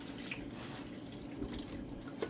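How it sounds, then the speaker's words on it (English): Water poured into a ham baking pan covered partly with foil, a soft continuous trickle and splash at close range, fairly quiet over low room noise. "Also, you're just gonna pour some water in it."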